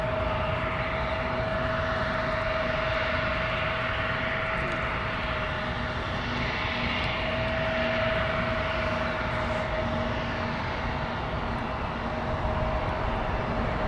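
Airplane engines roaring steadily on runway 23 at Toronto Pearson airport, a continuous broadband rumble with a sustained tonal whine, loud and unbroken throughout.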